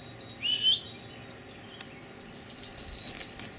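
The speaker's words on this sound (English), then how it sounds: "Oh, the black-headed gull doesn't like this." Black-headed gull gives one short, rising whistled call near the start, above a quiet outdoor background; the rest stays still and calm.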